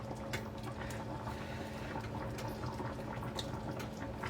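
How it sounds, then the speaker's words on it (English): Thick chicken pot pie sauce bubbles in a skillet, a steady low simmer with soft popping bursts scattered throughout, close and continuous with no talking. "Sauce is bubbling up and getting nice and thick"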